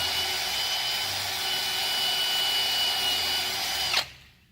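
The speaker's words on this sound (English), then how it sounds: "The end of the shaft has now been drilled" A power drill bores a hole into the end of a large VEX robotics shaft, a steady high whine that runs evenly for about four seconds, then cuts off and spins down.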